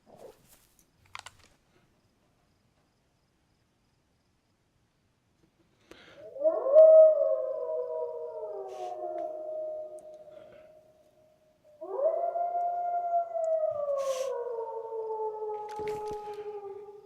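Wolves in the video game DayZ, on the Chernarus map, let out two long, wavering howls several seconds apart against near silence, each sliding down in pitch and fading slowly.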